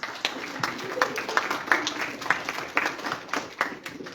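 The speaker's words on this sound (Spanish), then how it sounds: "creo que se merecen un aplauso por haber aguantado despiertos" A group of students applauds after a talk, with uneven, fairly close clapping and distinct individual claps rising and falling across the whole stretch.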